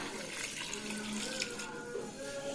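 Water poured onto couscous to moisten it during home preparation of a Moroccan Gharbaoui couscous with chicken and potatoes, a steady continuous pouring and trickling wash at moderate level with no talk.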